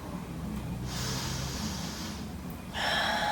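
An audible breath drawn in during a slow yoga flow in downward facing dog, a soft airy rush that swells into a louder, sharper inhale near the end, with no talking.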